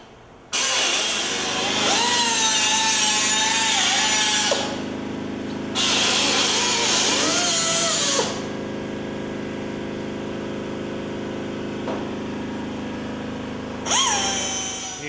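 A power cutoff tool and a reciprocating saw slicing through the steel body panel of a custom Bass Kustom coupe, loud sustained whining cuts that rise and fall in long bursts with pauses, close up and no voices.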